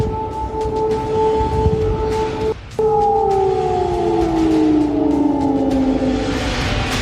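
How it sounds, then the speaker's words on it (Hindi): A loud wailing air raid siren in Kyiv during the Russia-Ukraine war holds a steady tone, cuts out briefly, then slowly falls in pitch as it winds down. "कीव के लोग एयर रेड सायरन की कानफोड़ी आवाज से पूरी रात जाग कर काट रहे हैं।"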